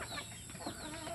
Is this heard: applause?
no